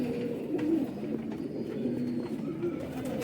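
A Rampuri pigeon coos in soft, repeated low rolling calls, close and moderately quiet over a faint background hum.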